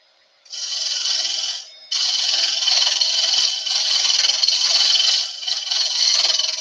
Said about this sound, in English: we're going to start taking some of this bulk just with the roughing gouge.